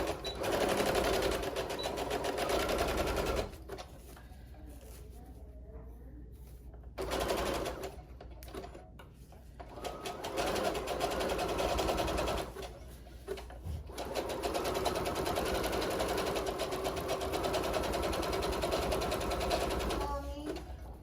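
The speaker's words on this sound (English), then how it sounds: "we're going to sew it the same way" A sewing machine stitching foam bra cups runs in several bursts, loud and close, with quieter pauses between runs and soft talking in the gaps.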